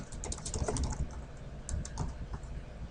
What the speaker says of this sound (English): if I start typing now